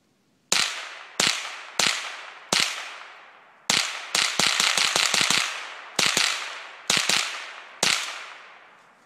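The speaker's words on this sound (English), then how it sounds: "So I'm gonna shoot at the metal target again." Ruger 10/22 Archangel Marauder semi-automatic rifle firing at a metal target outdoors, sharp loud cracks with ringing decay, single shots spaced out then a rapid string of about eight quick shots, then more evenly spaced single shots.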